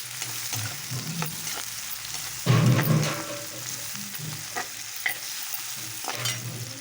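Onions fry in a pan for a seer fish curry, crackling steadily under repeated scrapes and stirs of a spoon, with one louder burst of sizzle partway through and no speech.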